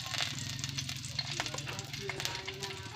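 Eggplant slices frying in a hot pan with loud steady sizzling and crackling oil, close by, under someone speaking in Filipino.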